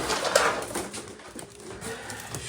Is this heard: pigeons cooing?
yes